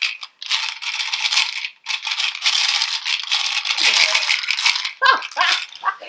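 Dice rattle loudly inside a small ghost figure from the Inkognito board game as it is shaken hard, a continuous rattling clatter in bursts with brief pauses, close up, with a few sharp knocks near the end.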